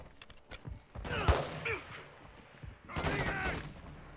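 Gunfire from a Call of Duty campaign video game: a couple of sharp bursts of shots, fairly quiet and separated by short gaps, with someone talking over them.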